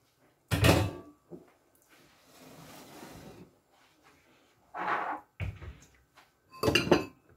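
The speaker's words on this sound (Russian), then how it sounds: "Спагетти обратно в кастрюлю." Drained spaghetti goes back into the cooking pot: a few distinct metallic clanks and thunks of pot and utensils, separated by brief softer rustling, close by with no talking.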